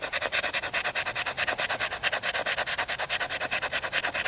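A knife scrapes along wood, shaving off fine curls and sawdust, in a quick, steady run of about twenty close, dry rasping strokes with no talking.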